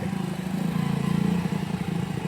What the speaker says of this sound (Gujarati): આવ્યો ભાઈ ભોણો બાઇક લઈને એના બાપાની.